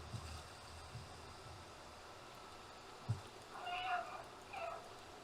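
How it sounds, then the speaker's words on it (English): Two short meows from cats in the video game Stray, fairly faint over a steady low background hiss, arriving near the end with a brief gap between them. "Misty heard all the cats making noise"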